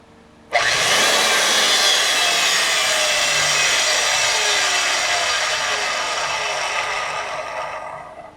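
A DIY magnetic drill and drill press hybrid with runout, switched by a foot pedal, starts abruptly and runs at a loud steady whine and grind that slowly eases over several seconds.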